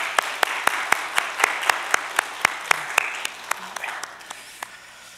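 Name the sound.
congregation applauding in church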